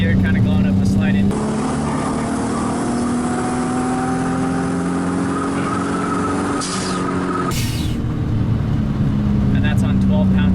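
Nissan 240SX S13 hatch with a JDM 1JZ swap on 12 pounds of boost accelerating hard in third gear, a loud rising engine drone with a gear shift near the end, with talk over it.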